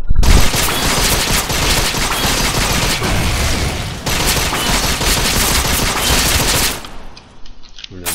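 Rapid gunfire from a character in the Vindictus action game, a dense, loud, continuous barrage of shots with a brief break near the middle, fading into mechanical clicks at the end.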